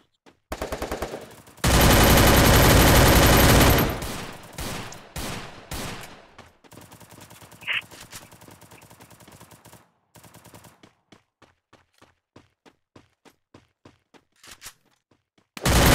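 MP5 submachine gun fire in a first-person shooter game, with loud sustained automatic bursts up front, then shorter volleys and a trailing string of sparse single clicks and taps before a final burst.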